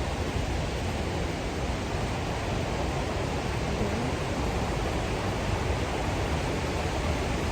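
A waterfall in Ratnapura district, Sri Lanka, running full in rainy weather, sends out a dense, unbroken rushing roar that holds constant throughout, close and with no voices.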